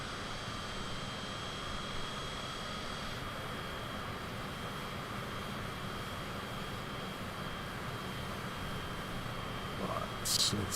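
Steady aircraft engine drone as a plane taxis toward the runway in Microsoft Flight Simulator 2020, a constant moderate hum with a faint high whine throughout and a brief click near the end, no talking.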